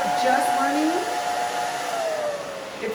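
Hair dryer running on high heat while blow-drying a short bob, a steady airy whoosh with a faint whine that holds for the whole stretch, with no talk over it.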